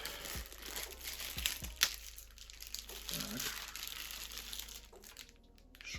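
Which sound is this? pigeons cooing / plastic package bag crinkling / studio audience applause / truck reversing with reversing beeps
plastic package bag crinkling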